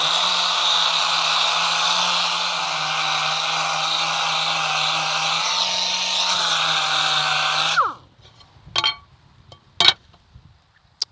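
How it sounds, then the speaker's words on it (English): A DA sander with 60-grit sandpaper whines steadily on a welded steel plate for several seconds, its pitch shifting slightly under load, then spins down and stops, followed by a few light clinks. "Got a DA here with some 60 grit sandpaper"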